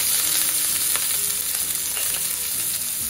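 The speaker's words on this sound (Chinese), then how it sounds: "咁然之後咧就爆香啲蝦米" Dried shrimp stir-fried in about a tablespoon of oil with ginger, crackling and sizzling loudly and steadily throughout, with scraping stirring noises near and no talking.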